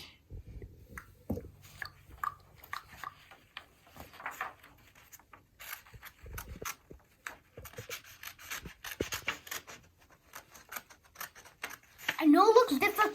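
Scissors snip and slide through paper while cutting out a shape for a children's Easter craft, with soft intermittent cuts, close rustling and louder handling of the paper at the end.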